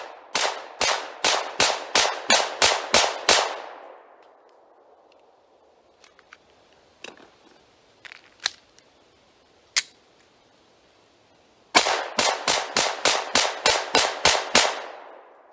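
Taurus GX4 pistol fired in two rapid strings of about eight shots each, sharp loud reports with short echoing decay, separated by a quiet gap with a few scattered handling clicks and one single shot.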